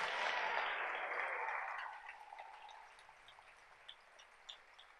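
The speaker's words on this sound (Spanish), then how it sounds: "Dele ese aplauso al Rey con todo su corazón." A church congregation applauds in a broad, wash-like burst that is loud at first, then thins to scattered, fading claps, with no talking over it.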